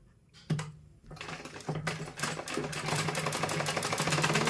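A sewing machine runs a half-inch seam along salwar fabric laid inside out, its steady whirring hum building after a short start and holding close and fairly loud to the end.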